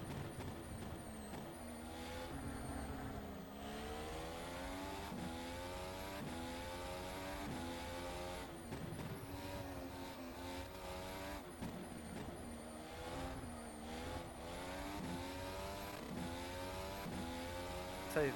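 A race car engine in the rFactor 2 sim racing game, at the Zandvoort circuit, revs up and down through repeated gear changes, its rising and falling whine running nonstop and fairly quiet without any talking.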